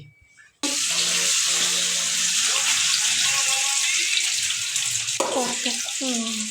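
French fries frying on a newly bought stove, a loud, dense, continuous sizzle that starts abruptly and holds steady, with clattering and scraping over the hiss and brief voices underneath.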